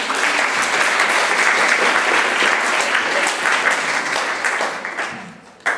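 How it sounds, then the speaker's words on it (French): A studio audience bursts into loud, sustained applause at a French comedy show, a dense wash of clapping that holds steady for several seconds before tapering off near the end. "On peut les applaudir bien fort"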